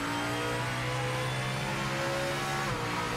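A turbocharged LMDH prototype race car engine in the Project Motor Racing video game, holding a loud, steady drone with a bright whine on top, then a brief dip in pitch near the end, with no talk.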